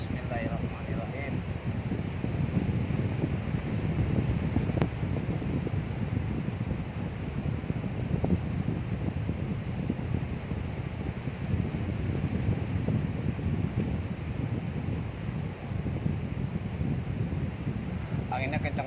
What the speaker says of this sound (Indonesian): Anginnya kencang banget ini. Dingin.